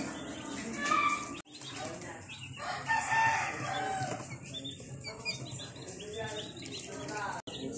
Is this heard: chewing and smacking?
no